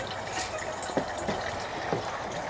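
Liquid runs from a spigot on a plastic-to-oil machine as fuel or water drains off. It makes a soft, steady trickle with a few faint splashy drips, heard close and fairly quiet.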